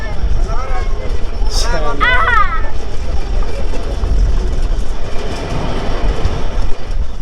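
The Benapole Express train rumbles steadily along the rails past Bhanga station in Bangladesh with a constant low roar and rattle, while people talk nearby over the noise.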